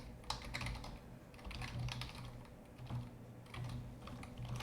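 Code is typed on a computer keyboard in quick, light clicking bursts with brief pauses, close and quiet, and no one talking.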